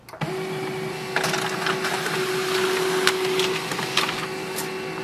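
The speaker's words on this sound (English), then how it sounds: "that is the printer information report" An HP LaserJet M209dwe laser printer prints an information report close by, with a steady mechanical whir and tonal hum broken by irregular clicks and paper-feed ticks.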